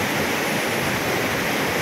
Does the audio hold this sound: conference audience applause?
no